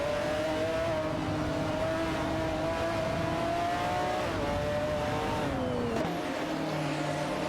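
Race car engines in a racing video game, including a Jaguar XJ220, a loud, continuous whine of several cars with rising and falling revs and a gear shift near the end.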